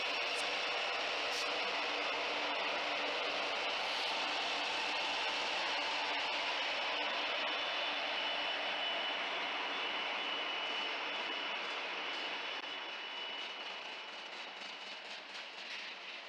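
A Norfolk Southern freight train with an all-ECU locomotive lash-up hauls loaded gypsum cars past, a continuous broad roar and rumble that stays loud throughout and eases slightly toward the end, no voices.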